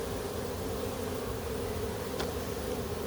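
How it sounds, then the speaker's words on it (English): A swarm of honey bees buzzing close up, a dense, continuous droning hum that stays loud and unbroken throughout. "Listen to those bees in there."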